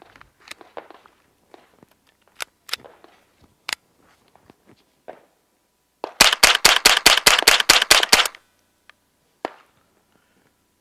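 Chiappa .22 rimfire AR-style carbine firing a rapid string of about a dozen sharp, close shots in quick even succession, preceded by scattered clicks and handling noises and followed by a single later click.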